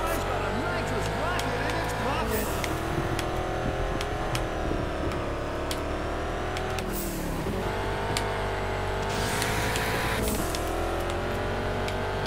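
Racing car engines roar in the video game Juiced 2, with a Saleen Mustang among them, revving hard with gear-change dips and rises, loud and continuous while someone talks excitedly over the race.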